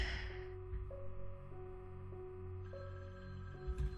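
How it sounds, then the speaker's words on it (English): A phone ringing inside the Halloween Michael Myers survival video game: a faint, repeating electronic ring tone in short pulses over a low, rumbling ambient hum. "Phone's going off."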